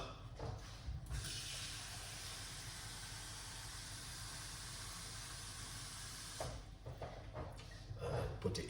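Water running steadily from a tap as it is gathered for homemade grape juice, a sustained hissing rush lasting several seconds before stopping, with clunks and handling noise around it.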